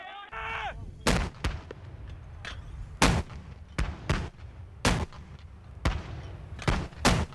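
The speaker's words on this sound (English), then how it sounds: "Mortar sections from the parachute regiment began to pile the pressure on Iraqi units to the northwest of Basra just before dawn." Mortar sections of a parachute regiment fire on positions northwest of Basra before dawn, a series of about ten heavy booming reports spaced roughly a second apart, some closer and louder, over a low rumbling background.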